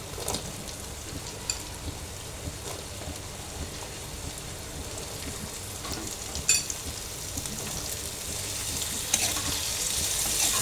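Banana stem goes into a pan of dried fish masala and fries with a soft, continuous sizzle and crackle, with occasional stirring clicks and no voice.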